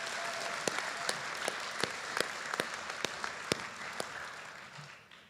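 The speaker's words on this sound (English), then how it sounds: "Please help me give one last huge round of applause for our dignitaries" A large crowd claps steadily at the 2022 Ferguson High School graduation ceremony, a dense, sustained round of applause with a few louder individual claps standing out before it tapers off at the end.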